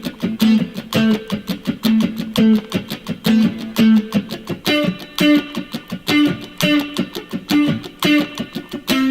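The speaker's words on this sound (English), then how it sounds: "And for the bridge, we're going to do some muted strumming." Muted strumming on an electric guitar for the bridge of a song: a steady, driving rhythm of choppy, percussive chord hits with short pitched accents, played loud and alone.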